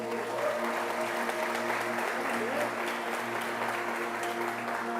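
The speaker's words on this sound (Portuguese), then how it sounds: "Você pode aplaudir a Ele nessa noite?" Applause from a church congregation during a Portuguese-language evangelical service, steady and dense throughout, mixed with sustained organ or keyboard tones beneath.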